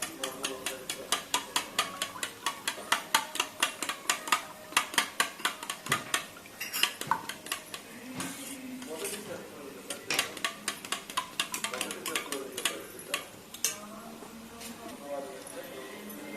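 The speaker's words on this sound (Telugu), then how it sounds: "చూసారా, మొత్తం అంతా కలిసిపోయేలాగైతే బీట్ చేసుకోవాలి" Eggs are beaten in a bowl for an egg biryani with coconut milk, making quick rhythmic clinking taps in fast runs broken by short pauses, up close, with a voice talking over parts of it.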